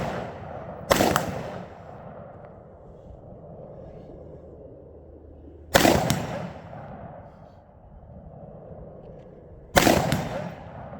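Three loud gunshots fired at targets outdoors, spaced several seconds apart, each a sharp crack with a decaying echo over a steady breezy background.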